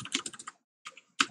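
Keys clatter as commands are typed on a computer keyboard into a terminal emulator inside Vim: a quick run of close keystrokes, a short pause, then a few more taps.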